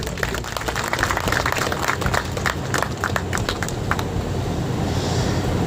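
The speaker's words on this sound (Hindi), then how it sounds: "एक बार जोरदार तालियां के लिए।" Crowd applause at an outdoor NDMC tree-planting drive in Kidwai Nagar: scattered claps over a continuous background rumble, thinning out near the end.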